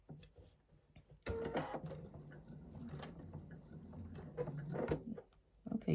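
Sewing machine stitching the final seam of a quilt block, a steady close whirring run that starts after a quiet second and continues with small pauses and speed changes.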